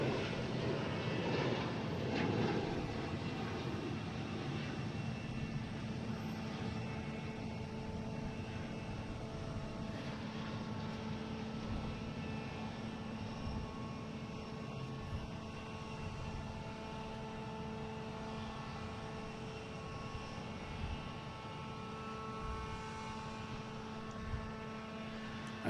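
A Delta Embraer E175 regional jet, flight 5616 at Boston Logan, gives a steady, fairly faint engine hum and whine that holds evenly for the whole stretch, alone without voices.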